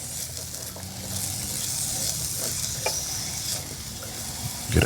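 Diced white onion frying in oil in a pan, a steady bright sizzle with a few soft stirring knocks and clicks, close and continuous.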